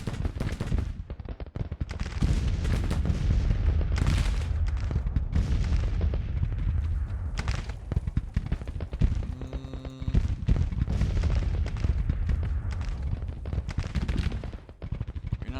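Musket gunfire in a Civil War video game set in spring 1861, with loud repeated volleys and scattered shots cracking and booming continuously across a battlefield, mixed with distant rumbling fire.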